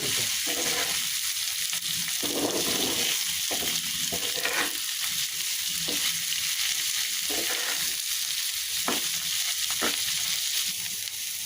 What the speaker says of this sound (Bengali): আমি এভাবে এখন নেড়ে চেড়ে ভেজে নেব